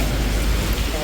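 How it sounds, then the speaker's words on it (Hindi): Heavy rain pouring steadily during a pilgrimage trek to Vaishno Devi in monsoon weather, a dense continuous hiss close by. "तेज बारिश हो रही है"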